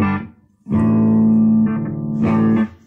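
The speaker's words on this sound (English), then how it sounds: "I've got my trusty Donner Looper going with the clean guitar sound through my Champion 40." A clean electric guitar played through a Donner looper pedal into a Fender Champion 40 amp rings out in sustained, close chords, with a short phrase, a pause, then a long held chord and a final strum.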